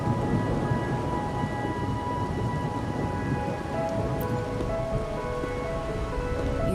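Rain pours in a gacha video game scene, a steady dense hiss with a faint rumble like distant thunder, continuous and unbroken with no voices.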